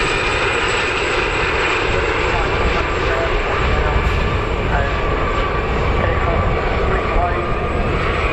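Small high-seat aircraft flying at the RAF Cosford airshow, a steady loud engine drone that holds throughout, with a commentator talking over it.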